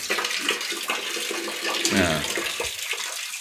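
Water runs steadily from the tap of a multi-stage home water filter, a continuous splashing hiss with faint clatter partway through.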